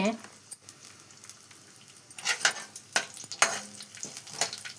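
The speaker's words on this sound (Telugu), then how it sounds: "కొంచెం ఇలా ఫ్రై అవ్వాలి." Maggi instant noodles frying in a pan give a soft hiss that swells into bursts of louder sizzling and scraping as they are stirred, heard close up, with faint speech-like sounds in places.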